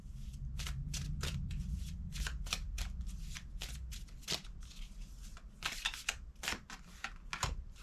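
A deck of playing cards shuffled repeatedly up close, with crisp riffling bursts and snaps over a low background rumble.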